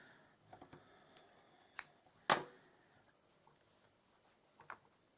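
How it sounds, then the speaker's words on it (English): Scissors snip off the end of crochet yarn after fastening off a hexagon, a few faint, short cuts and clicks with one sharper snip in a quiet room. "pull through and snip it off"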